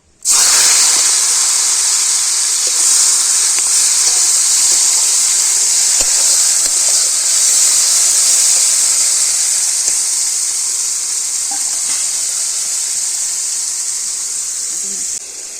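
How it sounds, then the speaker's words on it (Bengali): Loud, steady sizzling hiss of prawns frying in hot oil, continuous throughout and slowly easing off toward the end. "তেল গরম হয়ে গিয়েছে চিংড়িটা দিয়ে দেবো"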